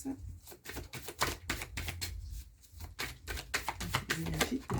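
Tarot cards are slapped down and shuffled on a table in quick irregular bursts of crisp flicks, close up, while someone talks softly between the card sounds.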